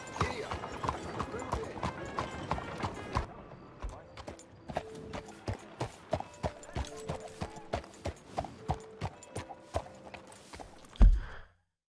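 A horse's hooves clip-clop in a steady rhythmic beat through the streets of Saint Denis in Red Dead Redemption 2, with a snort or whinny near the end and a person speaking at times.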